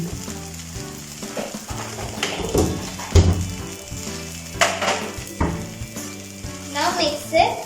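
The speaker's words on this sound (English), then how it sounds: "Keep your flame high. It's time to mix with the noodles." Egg noodles with spring onions sizzling and being stirred in a pan on a high flame, a steady frying hiss with scraping and clinks of utensils, while a voice speaks over it.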